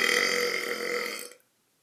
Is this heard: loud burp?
yes